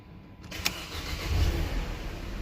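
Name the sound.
Mercedes-Benz E200 Kompressor W211 engine starting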